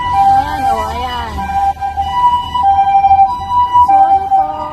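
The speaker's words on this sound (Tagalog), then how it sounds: "Ang ingay na ambulansya." An ambulance siren wails loudly on a Tokyo street, its rising and falling tones sweeping close by over low traffic rumble, continuing throughout the clip.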